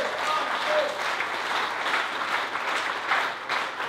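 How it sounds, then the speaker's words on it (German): Applause from the audience at a press conference after the VfB Germania Halberstadt vs. 1. FC Magdeburg football match: a short, even stretch of many hands clapping, fairly loud and continuous, with no voices. "herzlich willkommen und Ihr Applaus sicherlich auch für den Gast."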